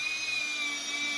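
A power drill whines steadily at high pitch, close and continuous, as it drives screws through a wooden router jig into 2x4s.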